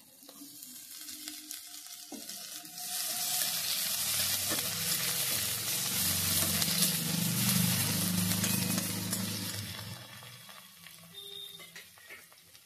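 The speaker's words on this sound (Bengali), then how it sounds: "এগুলো একটু আমি ভেজে নিচ্ছি।" Food sizzles and fries in a pan, swelling to a loud steady crackle with a stirring rustle, then fading back down near the end.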